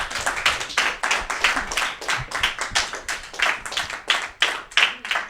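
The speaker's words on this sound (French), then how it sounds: "On peut applaudir quand même." An audience applauds through a French youth TV show segment, steady dense clapping from many hands with no voices over it.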